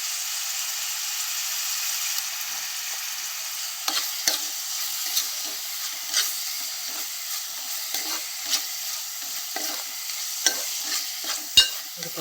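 Chicken frying with ginger garlic paste in a pan, stirred steadily: a continuous close sizzle with repeated scraping stirs throughout and no talking.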